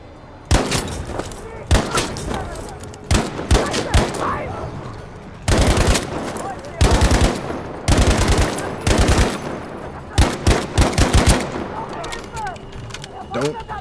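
Battlefield V campaign combat: loud bursts of automatic gunfire and single shots crack repeatedly in quick succession, with short gaps between volleys and voices talking underneath.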